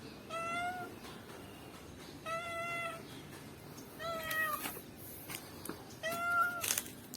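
A limping pet cat meows four times in drawn-out, evenly spaced cries, close and clear, over a quiet background with faint rustling between calls.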